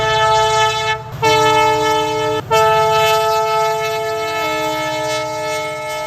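A train sounds a loud, sustained multi-tone horn, cut by two brief pauses, over a steady low rumble of rolling cars nearby.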